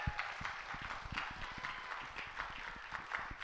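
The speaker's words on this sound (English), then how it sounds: "Let's give another round of applause for our singers." An audience applauding choir singers after a final performance, a dense spatter of clapping hands heard at moderate distance, steady for a few seconds without voices.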